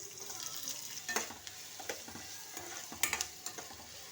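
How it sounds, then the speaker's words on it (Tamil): Onions sautéing in leftover oil in a pan for kovakkai kulambu: a quiet, continuous sizzle with soft scraping and stirring sounds throughout, and no talking. "இப்போ அதே எண்ணெயிலேயே நம்ம இந்த வெங்காயம் போட்டு வதக்கிக்கலாம்."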